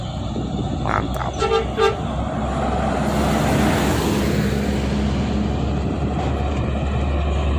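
An Indonesian bus telolet horn on an employee shuttle bus toots a few short musical blasts amid steady engine rumble and road noise, followed by a loud vehicle passing close by.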